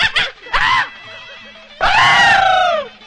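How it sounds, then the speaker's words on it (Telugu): A man lets out loud, strained screams in a Telugu film scene, a couple of short bursts followed by a long, drawn-out yell, close and forceful. "వీడెందుకండి జురాసిక్ పార్క్ సినిమా చూసిన లెవెల్ అరుస్తున్నాడు."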